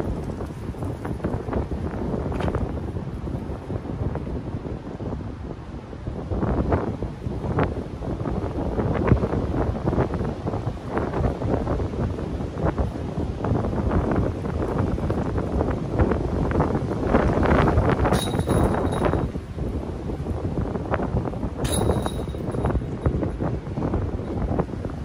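Strong gusting wind buffets the microphone on a disc golf course in roughly 25 mph conditions, a loud continuous roar that swells and eases with each gust, with no talking.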